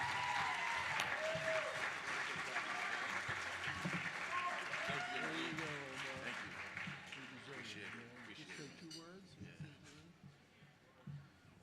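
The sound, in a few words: audience applauding at a gala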